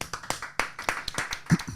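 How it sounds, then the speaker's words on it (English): A few people clapping for a football player of the week, a sparse, uneven run of distinct close claps at an irregular rhythm, moderately loud and brief. "Big clap for Cole"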